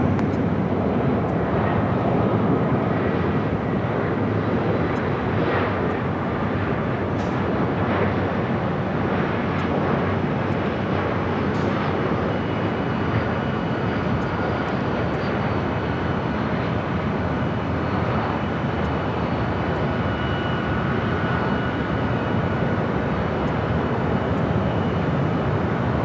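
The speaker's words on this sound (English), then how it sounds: "It's a Cessna 680A, Citation Latitude, followed by that Sichuan Airlines A380 special livery." Jet airliner engines roaring steadily on the runway at LAX airport, a continuous loud broadband rumble that persists throughout with no speech.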